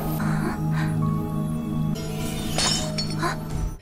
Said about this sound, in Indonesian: tiba-tiba saja Lang Huan mendengar sebuah pecahan gelas